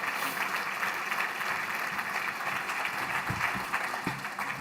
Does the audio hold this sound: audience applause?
yes